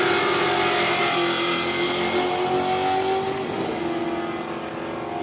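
A drag race car roars down the strip at a quick street event, a loud sustained engine howl with a rising pitch under steady crowd-level noise, then fading slightly as it moves away.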